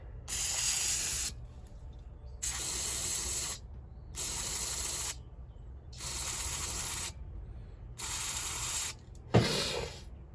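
Cleaner sprays in five sharp, hissing bursts into a minibike carburetor, each about a second long with short pauses between, followed by a brief clack at the end.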